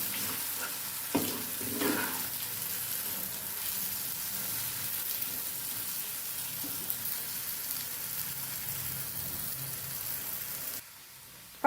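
Steady sizzling of a frying mixture in a pan for a Marathi breakfast farsan, with scraping stirring strokes near the start, continuous and close, then cutting off abruptly near the end; no talking.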